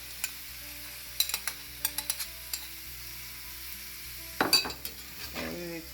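Chicken for Sri Lankan devilled chicken being mixed in a pan with oyster sauce and sweet chili sauce: a steady sizzle under a run of quick utensil scrapes and taps, then a louder stirring clatter near the end.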